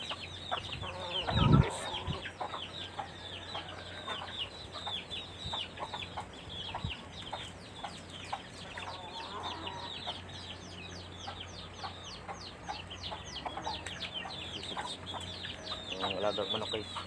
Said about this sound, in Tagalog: Alagang manok guys.